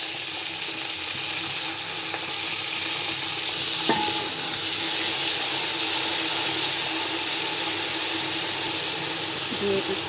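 Soft, steady sizzling of soaked dried plums frying in oil with five-spice and nuts, with a couple of faint clinks partway through and no speech.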